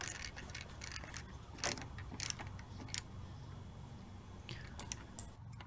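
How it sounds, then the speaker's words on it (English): A crosshead screwdriver tightens a screw on a front indicator of a Vespa GTS, giving soft close ratcheting clicks and scrapes with a few sharper taps over quiet background noise. "you can get your crosshead screwdriver and just tighten it up"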